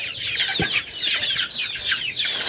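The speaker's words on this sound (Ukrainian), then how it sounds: "Сюди перевела середніх курчаток. Ось вони тут кричать, верещать" Many chicks chirp and squeal continuously in a poultry enclosure, a dense, high-pitched chorus nearby, with a brief low thump partway through.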